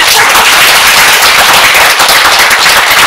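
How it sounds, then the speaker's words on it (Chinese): An audience at a Buddhist teaching session bursts into dense, loud applause, a continuous crackle of many hands clapping at once. "应该给自己一个掌声"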